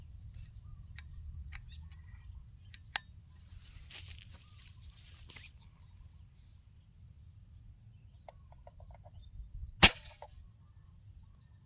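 A single sharp, loud air rifle shot firing a 12-grain slug near the ten-second mark, with a fainter crack earlier, over a low steady background rumble.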